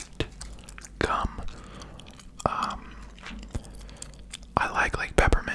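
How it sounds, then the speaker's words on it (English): Close, wet chewing and crunchy bites of Extra white peppermint gum, with sharp bite clicks and soft mouth sounds, interleaved with whispered talk. "I love just biting into a piece of gum"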